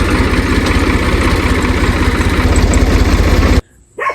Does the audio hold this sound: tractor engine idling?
yes